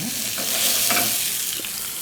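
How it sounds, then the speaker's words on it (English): Veal cutlets sear in a hot pan, giving a continuous bright sizzle with a few soft stirring or shifting scrapes, steady and close, with no talking. "Now I'm going to give this a light little sear."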